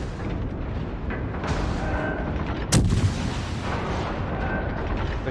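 Naval gunfire in World of Warships, a single heavy cannon blast near the middle cutting through a steady layer of battle noise and rumble.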